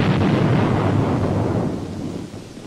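A 2,000-pound aerial bomb dropped from 10,000 feet explodes near a target ship, heard as a deep, sustained roaring rumble that fills the low end and slowly fades over a few seconds.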